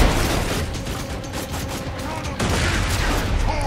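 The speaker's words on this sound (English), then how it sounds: "I like this assault rifle." Automatic assault rifle fire in the shooter game Borderlands 2, a dense continuous rattle of rapid shots with a louder burst near the end, heard close and steady.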